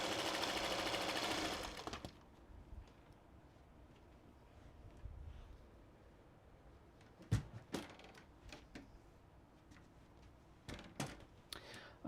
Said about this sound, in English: I'm going to stitch through the first one, and then I'm not going to break my thread. I'm just going to sew right on to the next one